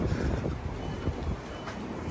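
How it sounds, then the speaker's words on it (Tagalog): Strong wind gusts buffet the microphone outdoors near a bus terminal on a Mount Fuji trip, making a low, rough rumble that rises and falls unevenly throughout. "Sobrang lakas ng hangin."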